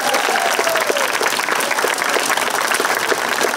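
Audience at a county fair talent search applauding the contestants, a dense, steady roar of clapping from a crowd, loud and continuous throughout with a faint voice near the start.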